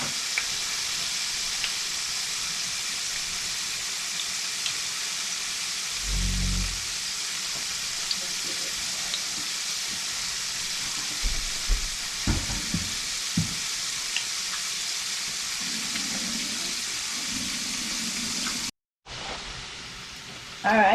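Oil and aromatics sizzling steadily in a frying pan before eggplant is added for fried eggplant, a constant close frying hiss with occasional stirring knocks, then a brief cut and louder sizzle.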